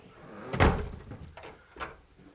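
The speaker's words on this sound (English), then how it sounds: "Someone left the door to the attic open. That could be dangerous. We better close it and lock it." An attic door swung shut with a single loud thump, followed by quieter knocks and a brief rattle as it is latched and locked, close by with no talking.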